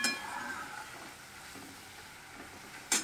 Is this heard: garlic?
yes